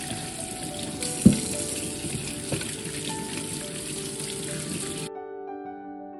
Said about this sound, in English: Next, I'm gonna rinse the beetroots to get rid of the debris and soil.